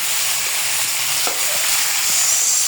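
Bitter gourd (ampalaya) sautéing with tomato, chicharon and tofu in a pan gives a steady, close sizzle with faint stirring scrapes throughout.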